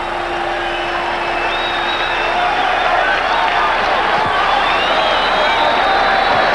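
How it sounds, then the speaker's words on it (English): Boxing arena crowd roaring in a sustained swell at a Marvin Hagler vs Mustafa Hamsho fight as a right hook lands on Hamsho's chin, steady loud crowd noise throughout. "The crowd echoed that one."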